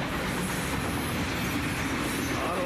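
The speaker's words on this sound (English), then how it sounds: "SF train" An Atchison, Topeka and Santa Fe train passing close by, a loud, dense, continuous rumble of wheels on rail with faint squeal, steady throughout and no talk.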